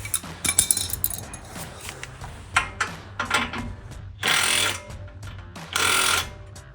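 A wrench works on the tie rod nut of a 2009-2020 Ford F-150 during an upper control arm install, with a quick run of ratcheting clicks and metallic clinks followed by two longer grinding bursts, close up with no talking.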